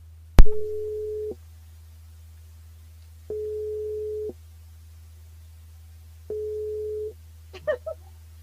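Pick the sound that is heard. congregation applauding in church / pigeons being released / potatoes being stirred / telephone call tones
telephone call tones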